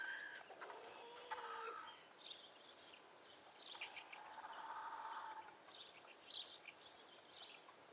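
Hens cluck and murmur in a farm coop where chicks are hatching, with scattered short calls and a longer throaty cluck midway, quiet and somewhat distant with no voices.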